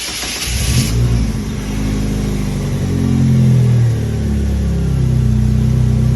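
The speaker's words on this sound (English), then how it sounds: "Got to push the clutch in and push the start button" A Polaris Slingshot engine cranks and catches after the key, clutch and start button, then revs up and settles into a steady mid-pitched idle, loud and close with no talking.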